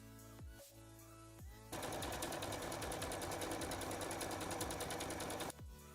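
A sewing machine runs a lettuce hem along stretched shirt fabric in one fast, steady burst of rapid stitching that starts abruptly, holds for about four seconds, then stops, with a few brief handling sounds around it.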